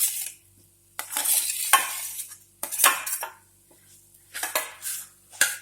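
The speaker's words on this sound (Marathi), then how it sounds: "आणि हा सर्व मसाला आपण छान मिक्स करून घेऊ एकत्रित." A spatula scrapes and stirs mashed potatoes into roasted masala in a pan for aloo kachori filling, in about six close, loud bursts separated by short pauses, with no voices.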